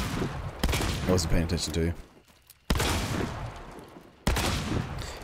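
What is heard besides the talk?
shotgun shots in Hunt Showdown video game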